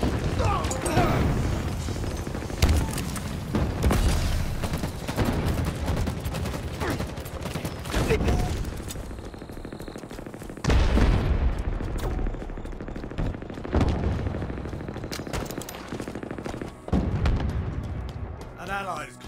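Heavy gunfire and explosions in a Halo Infinite Big Team Battle multiplayer match, with dense bursts of rapid shots and booms continuing throughout, broken by a few brief lulls, while voices talk over the action.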